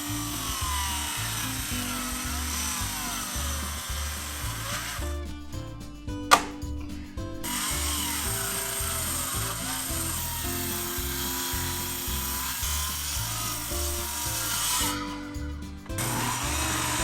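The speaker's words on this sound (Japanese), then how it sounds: "そして最終カット、ノコ目を入れます。" A hand saw works steadily through a huge monkeypod slab with rhythmic rasping strokes, close and continuous under a low background hum, with two brief pauses and a sharp click.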